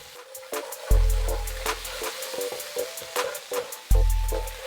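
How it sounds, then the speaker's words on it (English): Dried shrimps stir-fried in a pan for Malaysian kangkung belacan give a steady close sizzle broken by quick scraping clicks of stirring, with low musical tones running underneath. "I'm gonna throw in all the dried shrimps that I have. Give this a good stir around."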